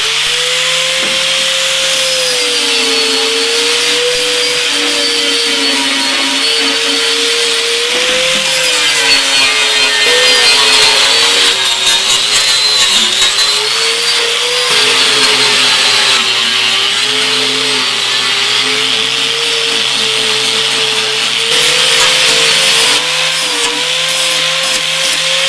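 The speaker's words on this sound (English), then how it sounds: "I'll just buff it up a little. Get rid of some of this solder lump." A power buffer grinds solder lumps off a metal weathervane, a loud, steady whine with a wavering pitch that runs unbroken and close throughout.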